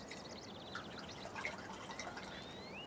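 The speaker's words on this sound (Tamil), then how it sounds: "ஏலே குச்சி ஊற்றி கொடுல" A drink being poured: soft bubbling, trickling liquid with small gurgles and drips over a steady background hiss, faint and without talk.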